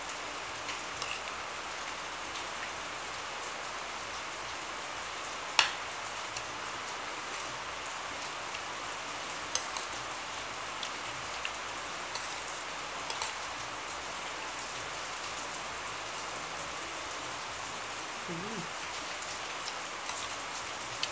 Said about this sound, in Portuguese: Aqui muita chuva, viu, gente? Muita chuva mesmo.